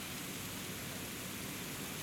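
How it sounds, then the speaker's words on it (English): Heavy rain pours down steadily on a St. Louis street and sidewalk, a dense, even hiss with no breaks and no voices. "very heavy rain in St. Louis."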